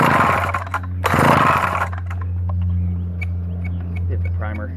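McCulloch 1-46 chainsaw engine running after a first start: a steady, loud two-stroke idle with a low, even drone throughout, and someone speaking over it at the start.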